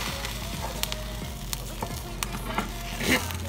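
Grilled cheese sandwich frying in a pan with burnt cheese, a soft steady sizzle broken by faint scraping and clicks of a utensil against the pan, fairly quiet throughout.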